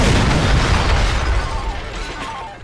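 A loud, booming C4 explosion in the video game Garry's Mod fills the whole stretch, a dense rumbling blast that slowly thins out toward the end.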